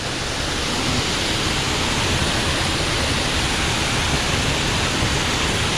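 Mountain stream water near Mary's Peak rushing steadily and close by, a continuous broad hiss of flowing water with no pauses and no voices.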